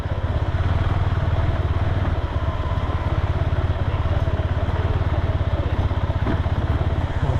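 A scooter engine on a rough off-road street in Jomsom, Nepal, gives a steady, close putter with a fast regular pulse and light rattling, staying fairly even in level throughout.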